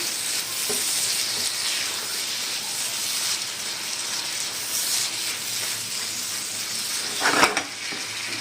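Green onions, mostly green parts with a little white, being stirred into a sizzling frying pan, a steady broadband fry hiss throughout with a brief louder scrape of stirring near the end.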